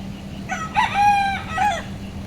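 A rooster crows loudly and close by, a single drawn-out call with no voices.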